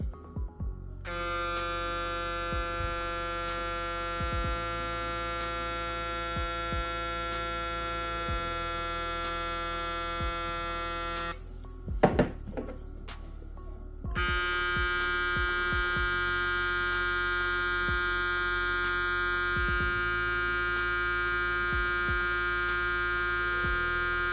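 TPOB Goblin electric hair trimmer running with a steady close buzzing hum, briefly cutting off for a few seconds with some handling clatter, then running again just as steadily.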